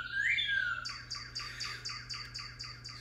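Northern cardinals sing a run of repeated, evenly spaced whistled notes in a steady rhythm, clear and close, with a sweeping phrase at the start and a constant low hum underneath.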